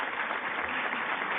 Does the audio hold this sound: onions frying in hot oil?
no